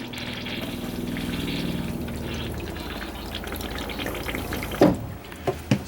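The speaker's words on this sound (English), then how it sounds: "if you push the pedal partially down, it fills the commode with water" Water rushing and splashing into an RV toilet bowl as the foot pedal is pushed partway down, a steady close fill for several seconds, followed by a few short knocks and clunks near the end.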